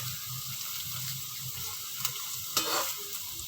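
Onions and bitter gourd frying in oil in a pan, a steady close sizzle with a couple of brief clinks from a stirring utensil.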